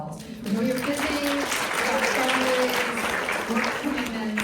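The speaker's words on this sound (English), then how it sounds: "give a huge round of applause to yourselves" Audience applause at a panel event in a New York City venue, dense steady clapping that fills the room, with a voice talking over it throughout.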